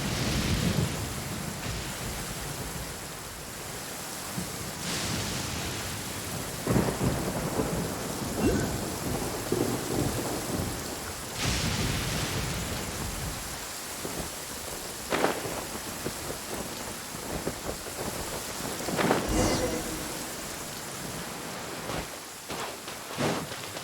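Thunderstorm with rain in the video game Genshin Impact, a steady wash of rainfall broken by several deep rolling thunderclaps, some sharp and close, others distant rumbles.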